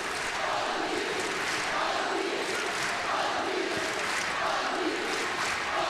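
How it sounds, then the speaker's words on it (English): The home crowd at a 2010 Oklahoma women's basketball game against UConn roars and cheers in a dense, sustained wash of arena noise that swells slightly and never lets up. "the pink crowd is right back in it"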